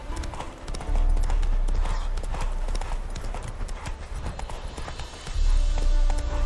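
In The Witcher 3 video game, a horse gallops with rapid, loud hoofbeat clip-clops that run steadily across the whole stretch, along with some background game sound.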